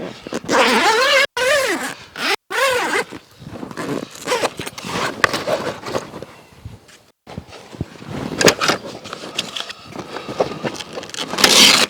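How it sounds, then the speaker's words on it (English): A 270-degree vehicle awning unfolds on a Toyota Hilux, with close zipper-like rasps, rustling fabric and a few sharp clunks as it swings out. "The 270-degree awning is nice and easy to open and fold out"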